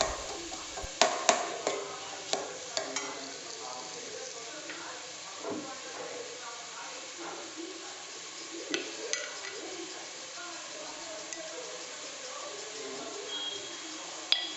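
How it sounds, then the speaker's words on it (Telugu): Sliced onions fry in a pan for a village-style chicken curry, a soft hiss with scattered clinks and stirring knocks of a utensil, close and fairly quiet. "అవి వేసుకొని బ్రౌన్ కలర్ వచ్చే వరకు ఫ్రై చేసుకోవాలి."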